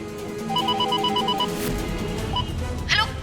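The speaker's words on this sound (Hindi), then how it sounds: "हमने सिर्फ आपको इसलिए फोन किया था कि पूछ लें कि जीनत भाभी तो नहीं है" A telephone rings with a rapid electronic trill in short repeated bursts at moderate volume in an indoor drama scene, followed by a brief rustle.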